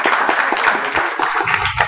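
Brief burst of audience applause at a university panel seminar on drones, a dense run of claps under a faint murmur of the crowd.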